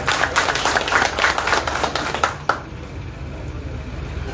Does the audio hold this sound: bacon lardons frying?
no